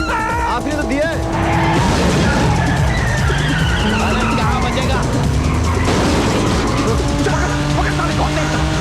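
A car drives hard and skids in a chase, tires squealing and engine revving under loud dramatic music, with an agitated voice talking over the commotion.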